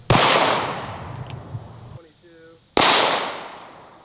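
Two sharp, loud gunshots from a 5.7x28 blue tip round fired at a target, each a crisp crack with a long decaying tail, separated by a short quiet gap in which a faint tone is heard.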